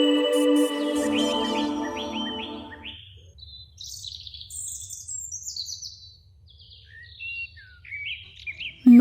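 A small bird in a Bengali animated folktale chirps in quick, bright bursts of tweets that come and go over several seconds, following a short stretch of sustained tonal music at the start.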